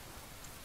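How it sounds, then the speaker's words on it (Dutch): Steady rainfall in the horse-riding game Star Stable Online, a soft, even hiss of falling rain with no voices. "Oh, het regent."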